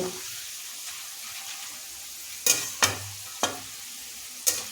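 Potato slices frying in a pan as a spatula stirs them now and then, giving a soft steady sizzle with a few sharp scraping strokes near the end; no one speaks.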